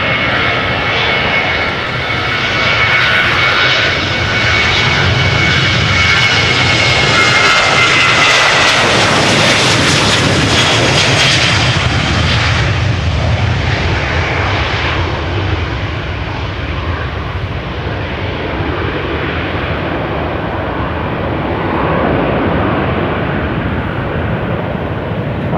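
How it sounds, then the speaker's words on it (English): A KLM Boeing 737-800 departs Amsterdam Schiphol for London Heathrow, its loud, close jet roar building to a harsh peak with a whining edge, then slowly fading as the aircraft climbs away. "Next up, KLM to London Heathrow. KLM for 1005, 737-800."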